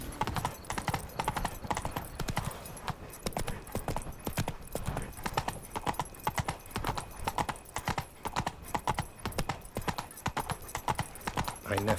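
Roach, a horse in The Witcher 3, galloping at speed, rapid rhythmic hoofbeats drumming continuously and fairly close for the whole stretch, with a brief voice over them near the start.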